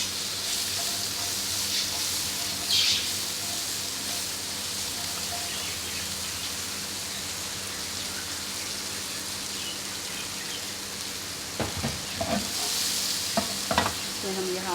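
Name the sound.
boiled vegetables stir-fried in butter in a pan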